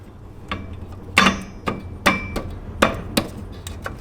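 A Nissan 350Z clutch disc and pressure plate take a series of sharp metallic taps, about eight irregular knocks in quick succession, close and clear with no talking.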